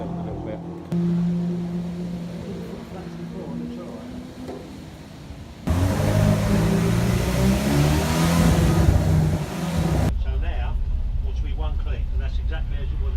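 Race car engine on a noise test, prone to backfiring, revs in sharp bursts and a louder sustained blast in the middle. People talk over it and the car stays close throughout.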